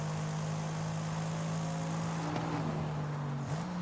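Steady, droning engine note from a Mercedes-Benz E63S in Forza Horizon 5, holding an even pitch at idle or low revs with a slight shift near the end, loud and unbroken.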